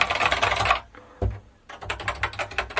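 Fast clattering keystrokes on a retro computer keyboard, loud and close, in two bursts with a brief pause and a single thump between them.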